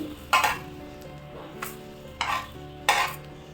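A masala neer dosa being flipped on a hot pan, with short scraping clatters of a spatula against the pan at irregular intervals over a low, steady sizzle.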